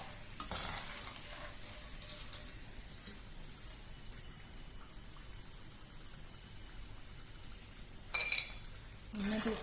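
Plantain pieces fry in hot oil for sharkara varatti, giving a steady close sizzle with occasional scraping stirs and metallic clinks of a ladle against the pan, the loudest near the end.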